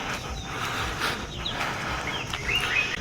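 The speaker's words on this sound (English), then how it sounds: "I just love the sound of birds," Birds chirp and sing in a leafy residential neighbourhood on Mbuya Hill in Kampala, Uganda. Several short, bright calls ring out over a steady outdoor hiss, and one or two sharper tweets stand out near the end.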